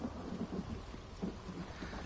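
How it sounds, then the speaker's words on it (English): Steady rain with low rumbling thunder in Elder Scrolls Online's Daggerfall area, a continuous wash of rainfall with soft repeated low rolls underneath, no talking. "it's done nothing but rain and lightning"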